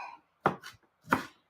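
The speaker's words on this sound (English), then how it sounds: "Chopping my rhubarb." A knife cuts through rhubarb on a board in two or three crisp, close strokes separated by short pauses, each a sharp thunk with a brief trailing crunch.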